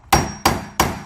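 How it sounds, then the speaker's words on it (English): Hammer blows drive a socket down onto a window crank shaft during a window crank repair: three sharp, evenly spaced metallic strikes, close and loud, each ringing briefly, with no talking. "So you're going to just take a hammer,"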